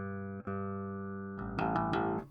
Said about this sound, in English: Let's bring in a bandpass filter, nice and high.